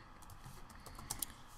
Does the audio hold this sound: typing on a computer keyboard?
yes